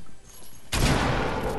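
Burst of gunfire from the video game Fortnite, a sudden loud volley that starts partway through and keeps rattling on after a quieter lead-in.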